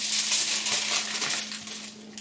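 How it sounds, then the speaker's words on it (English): Tin foil being wrapped around the outside of a bowl for a fabric bowl project, with a close, continuous crinkling and rustling that lasts about two seconds without pause. "So the first thing we're going to do is wrap the outside of our bowl in our tin foil or saran wrap."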